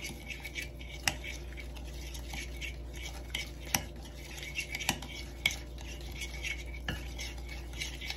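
Seasoned beef, salted, is stirred with a utensil in a pot, giving soft repeated scraping and clinking with a few sharper taps against the side, faint and close, with no talk.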